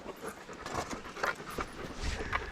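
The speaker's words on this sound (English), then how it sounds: "That's what a dog sounds like when it's been running." Quick, breathy panting close by from a sled dog after running, a steady run of rapid huffs with soft rustling underneath.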